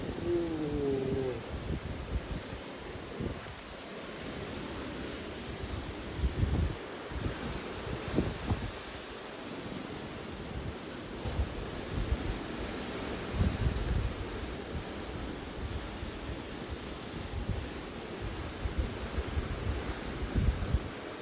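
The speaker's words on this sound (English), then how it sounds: "That wind has picked up heaps." Strong wind gusting outdoors on a rainy day during a cyclone, a continuous loud rushing roar with buffeting bursts on the microphone and rustling in the background, no talking.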